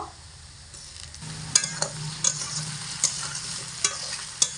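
Potatoes fry in hot oil with a steady, close sizzle while a strainer lifts them out, its sharp metallic clinks landing at irregular intervals over the bubbling. No one speaks.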